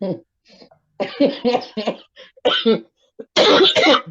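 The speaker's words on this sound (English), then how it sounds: "I'm tired of coughing." Several harsh coughing bursts in a row, loud and close, with short pauses between them and some throat clearing.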